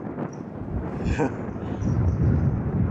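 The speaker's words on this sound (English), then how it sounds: "Hey Marco, welcome to very, very windy Fuerteventura." Low, rumbling wind buffets a microphone at Fuerteventura Airport, swelling and gusting, with a brief voice in the background.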